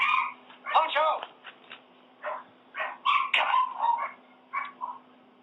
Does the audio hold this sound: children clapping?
no